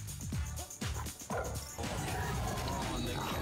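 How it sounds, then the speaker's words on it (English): A dog barks in a few quick, loud bursts during a house-wrecking scene from DC's Stargirl, season 2 episode 12. The barking gives way to a steady rush of crashing and background noise, with some voices under it. "They starting us with a dog destroying the house montage?"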